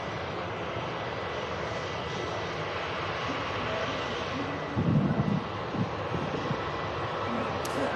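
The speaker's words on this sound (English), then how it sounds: "it's EasyJet heading out to Paris, Charles de Gaulle" An EasyJet Airbus A320 jet departing Manchester Airport, a steady distant engine roar that swells slightly midway, with wind buffeting the microphone.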